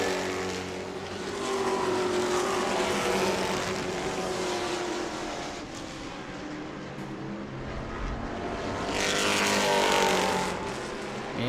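Pro Trucks racing around the short oval at New Smyrna Speedway, engines roaring loudly and continuously as the pack runs nose to tail, swelling as trucks pass close by.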